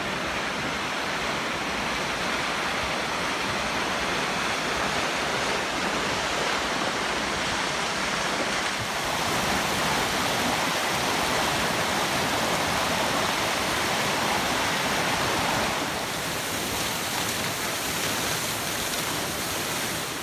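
Svartifoss, the Black Waterfall in Skaftafell, Iceland, roars as a steady, dense rush of falling water, loud and continuous with no voices.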